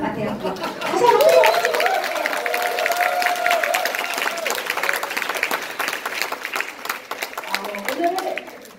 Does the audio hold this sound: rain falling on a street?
no